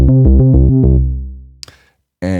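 A synth bass line, programmed with DRC, plays a short run of repeated punchy low notes that fades out, followed by a brief click and the start of another sustained synth tone.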